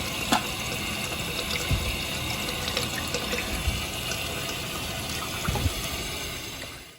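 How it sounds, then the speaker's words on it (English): Water runs steadily as a toilet tank refills after a repair, a constant close hiss and trickle with a few faint knocks and clicks, alone and without talk. "Okay, now turn on the water."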